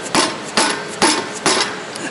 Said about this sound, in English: I'll just bash it with the hammer!